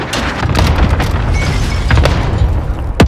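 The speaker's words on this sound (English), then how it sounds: "Enemy cluster strike. Watch your steps." Enemy cluster strike detonates across the map in Warzone's Rebirth Island, a rapid string of loud, overlapping booms and rumbling blasts with sharp pops, continuing densely for the whole stretch.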